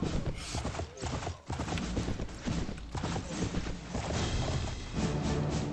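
Horse hooves clip-clopping in the game Mount & Blade Warband, Floris mod, a slow Sumpter horse trotting steadily amid busy battle noise, with continuous rhythmic hoofbeats close and fairly loud.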